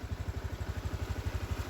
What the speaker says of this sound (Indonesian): Yuk naik motor ya.